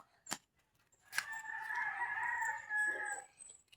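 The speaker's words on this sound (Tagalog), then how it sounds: "Ito yung manok." A rooster crows once, a long clear call fairly close, after a short sharp sound, with quiet surroundings.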